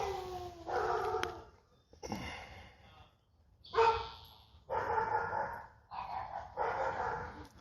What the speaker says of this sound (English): Sounds like the Twilight bark.